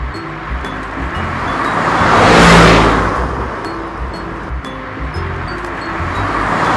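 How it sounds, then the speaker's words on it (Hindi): A car pulling away from a parking spot on a snowy mountain road toward the Chopta trek start near Tunganath, Uttarakhand, its steady engine and road rumble swelling near the middle and then settling, with no talk. "गाड़ी में बैठ के हम निकलते हैं गाइस।"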